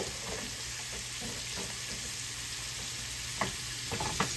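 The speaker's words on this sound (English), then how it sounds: "That's how I like to blacken my fish off, y'all." Fish blackening in butter in a pan gives a steady, close sizzle, with a few light scrapes and clicks of stirring near the end and no speech.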